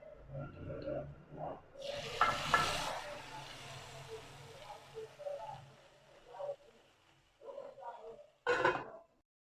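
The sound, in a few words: hot tempering poured into curry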